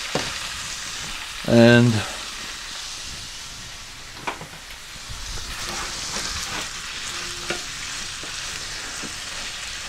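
Steak frying in a preheated pan for steak and grits, a steady sizzle and hiss running throughout, close and moderately loud, with a brief burst of a voice near the start and a few small clinks from the pan.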